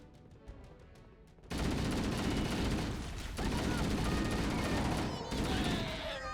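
An assault rifle in the video game Halo CE fires in a long, loud, continuous automatic burst lasting several seconds, with a brief break partway through. A short run of quick, evenly spaced beeps comes just before it.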